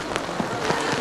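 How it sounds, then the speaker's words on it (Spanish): Heavy rain pours down on a street during an Easter religious procession in Aragón, a steady broadband hiss of falling water with scattered louder drops, continuous and fairly close, with no voices. "pero la lluvia arrecia"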